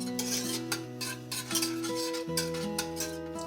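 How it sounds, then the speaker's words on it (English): Siopao sauce being stirred in a pan: repeated scraping and swishing strokes of a utensil against the pan, steady and close, with a sustained musical tone playing underneath. "you need to continuously stir until you reach the desired thickness you want"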